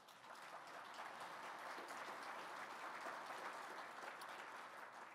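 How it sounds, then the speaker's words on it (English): An audience at a Good Scout charity lunch applauds steadily for about five seconds, a dense, even wash of clapping from a full room with no speech over it. "so please give them a round of applause."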